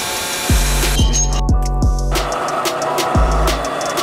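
A power tool works on metal pear-shaped leaves in a workshop, loud and close, with a run of regular low thumps about every half second over a whining motor, then a pause and one more thump.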